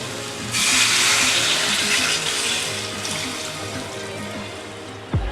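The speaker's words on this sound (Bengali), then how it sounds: "এখন দিয়ে দিচ্ছি পানি" Water pours steadily from a tap-like stream into a cooking pot of Bengali taro and hilsa fish curry, a loud rushing flow that fades slightly before a brief thump near the end.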